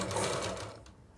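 An electric sewing machine runs a short line of stitching on a trouser pocket. The rapid whirring burst sounds close and lasts about a second before fading away.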